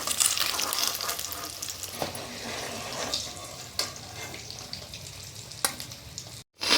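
Eggs fry in hot oil seasoned with Kashmiri chili and salt, giving a continuous close sizzle with a few sharp spatters and utensil taps, briefly cutting to silence near the end.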